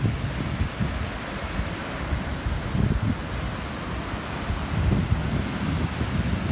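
Ocean waves breaking along the shore at Isla Mujeres, Mexico, a continuous wash of surf with soft swells and gusts of wind buffeting the microphone, moderately loud and without voices.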